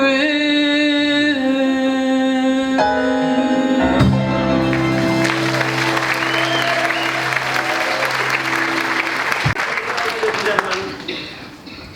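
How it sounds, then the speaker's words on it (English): An audience bursts into loud sustained applause for a performer, the clapping rising over lingering music and fading near the end, with a voice talking over it. "give her a round of applause"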